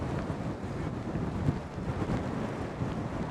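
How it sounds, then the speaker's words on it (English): Strong gusty wind roars steadily across the microphone of a bicycle riding through London, a loud continuous rumbling buffet with no speech. "The wind's really picked up out of nowhere."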